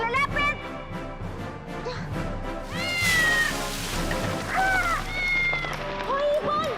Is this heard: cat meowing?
yes